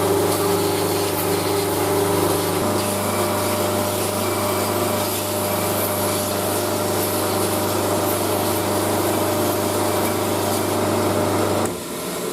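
Knife maker's belt grinder rounding a full tang knife handle, a steady loud motor hum with constant abrasive rubbing of the belt against the workpiece, continuous and close for the whole stretch, then a slight drop near the end, with no talking.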